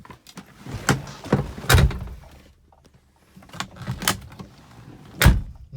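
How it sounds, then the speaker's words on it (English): The door of a 1971 Volvo 164 shuts several times with solid, close thunks, spaced a second or so apart and separated by quieter handling sounds. "Nice solid door shut again."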